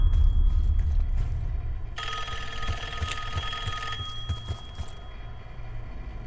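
A telephone rings in a Call of Duty Black Ops 6 game scene, a bright ringing burst of about two seconds heard over a steady low rumble and mechanical clicks.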